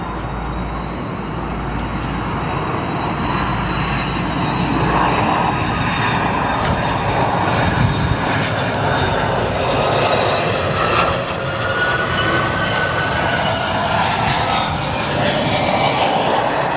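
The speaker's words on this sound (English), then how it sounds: "Listen to these A330 engines." Airbus A330 jet engines at O'Hare International Airport, a loud continuous roar with a rising whine as the airliner passes, no talking.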